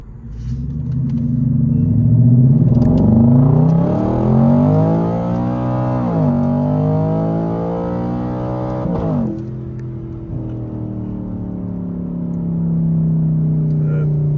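A car accelerates through the gears in traffic, its engine rumbling loud and close as the pitch climbs, drops at each shift and climbs again, then settles to a steady drone.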